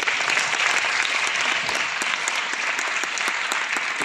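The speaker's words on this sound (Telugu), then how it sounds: "please clap for her" An audience at a memorial award function gives steady, dense applause for Khairatabad corporator Vijaya Reddy, with many hands clapping evenly throughout.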